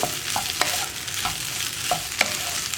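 Mashed potato filling for potato bonda, made without water, is stirred in a pan. Steady rhythmic strokes of a spoon scrape through it about once every half second over a faint sizzle, close by, with no voices.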